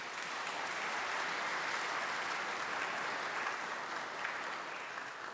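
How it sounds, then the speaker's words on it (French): A church congregation applauds at an Easter Sunday parish service: steady, dense clapping from many hands, fairly distant and even in level, sustained throughout with no talking over it. "Nous disons merci, nous l'applaudissons, s'il vous plaît."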